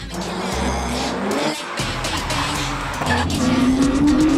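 Drift cars in tandem practice runs roar and rev hard, with tyres squealing and skidding, a brief dip in engine noise, then a rising engine whine as the cars sweep past, loud and fairly close.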